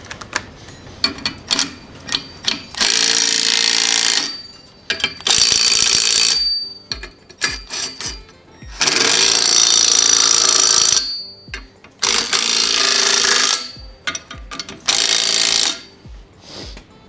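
Bolts are run down on a Subaru engine during a rebuild: several long, loud, buzzing power-tool bursts of one to three seconds, with scattered clicks and rattles of parts between them and no talking.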